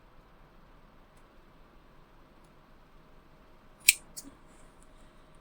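Scissors trimming a small piece of fabric for a hair clip: one crisp close snip followed by a fainter second cut against a quiet background, no speech.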